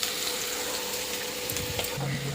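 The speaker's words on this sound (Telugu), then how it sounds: "ఉల్లిగడ్డలు అయితే వేగుతున్నాయి" Onions fry in oil for chicken biryani, giving a dense, continuous close sizzle and crackle with faint stirring scrapes throughout.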